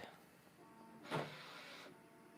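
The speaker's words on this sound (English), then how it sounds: "now my machine started printing" A Bambu Lab H2D 3D printer begins printing with a short motor whir that swells briefly and settles into a faint mechanical hum under a quiet room background.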